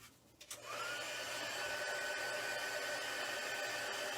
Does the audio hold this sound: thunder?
no